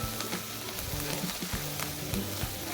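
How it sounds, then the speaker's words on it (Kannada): Onions and curry leaves fry in a pan while masala upma is being made, giving a close, continuous crackling sizzle broken by soft rhythmic knocks of stirring, with no one speaking. "ಈರುಳ್ಳಿ ಸ್ವಲ್ಪ ಹಸಿ ಸ್ಮೆಲ್ ಹೋಗೋವರೆಗೂ ನಾವಿಲ್ಲಿ ಫ್ರೈ ಮಾಡ್ಕೋಬೇಕಾಗುತ್ತೆ"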